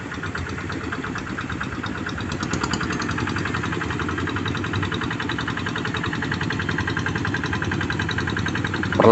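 A hand tractor's engine runs steadily while levelling a flooded rice paddy, a loud close chugging putter with a knocking rhythm that holds even throughout, with no speech over it.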